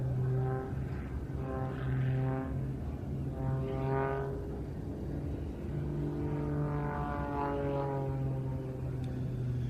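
Aerobatic propeller aircraft performing at an air show, its engine droning and rising and falling in pitch as it climbs and tumbles, with strong harmonic tones, heard steadily from a moderate distance.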